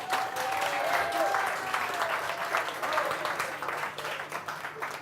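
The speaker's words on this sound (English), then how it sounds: "come on, round of applause." Audience applause after an interview chat, a dense, steady wash of clapping that carries on across the whole stretch, with faint talk or whistles threaded through.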